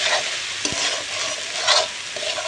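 Spices are stirred into a frying curry: a loud, close sizzle with scraping spoon strokes and a sharp knock against the pan, the stirring swelling in bursts; no talk.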